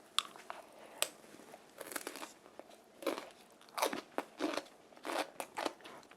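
Crisp, loud crunches of someone biting into and chewing freshly made Korean radish kimchi (kkakdugi) cubes. The bites come close up in an irregular run of sharp crackling bursts, with no talking.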